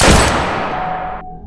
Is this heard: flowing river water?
no